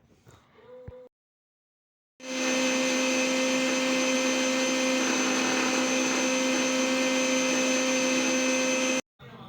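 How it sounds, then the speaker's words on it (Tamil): Electric mixer grinder whipping eggs for chocolate cake batter, a loud steady motor whine that starts after a short quiet pause and runs evenly for about seven seconds before cutting off, with faint clatter before it. "இப்போ நான் வந்து மிக்சியில் ஓட்டிக்கிறேன்"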